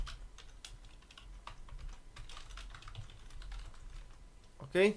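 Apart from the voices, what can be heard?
typing on a computer keyboard in Linux terminal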